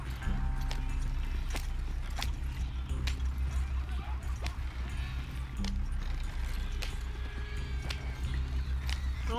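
Horse hooves clip-clopping in a Wild West video game, an even trotting beat of crisp clops with a few sharper accents, continuous over a low background rumble.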